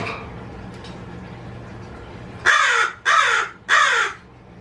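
Three loud, harsh crow caws in quick succession, following a stretch of quiet outdoor background hum.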